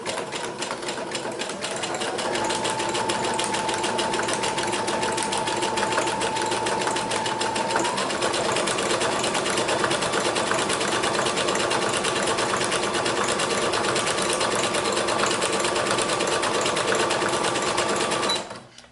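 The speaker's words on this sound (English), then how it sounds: "I'll put it into my sewing machine and make sure it's nice and straight before I get started" A sewing machine stitching through cardmaking paper, a loud, steady mechanical whir and rapid needle rattle running continuously for most of the stretch before stopping at the end, close and without talk.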